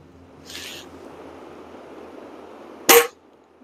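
A FWB LP80 match air pistol fires one sharp, loud, close shot near the end, after a faint hiss against a quiet room background.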